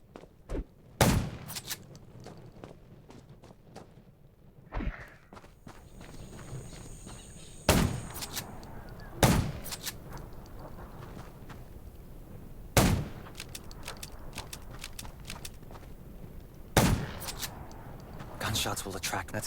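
Sharp, loud gunshots from the mobile video game Undawn ring out in irregular single bursts, spaced a few seconds apart, with quieter clatter and movement between them.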